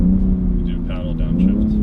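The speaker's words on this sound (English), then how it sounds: "So it's an auto, so that was a downshift." BMW X3M/X4M with automatic gearbox making a brief downshift, engine note steady and rumbling, then rising slightly, heard close from inside the cabin.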